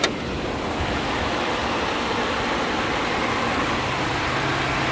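A Ford F-150 FX4 with a 3.5-liter turbocharged V6 runs steadily, giving a smooth, continuous low engine hum with a broad hiss, even in level from start to finish.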